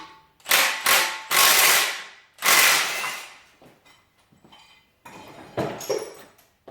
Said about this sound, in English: So we'll take the motor mounts off.